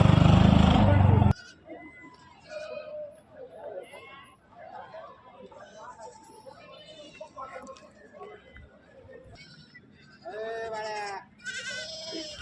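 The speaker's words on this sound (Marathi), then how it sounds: "काटेवाटी शेळी आहे." Katewadi breed goats bleating amid a busy goat market, several calls rising over a steady background of crowd chatter and bargaining voices, with a loud burst of noise at the very start.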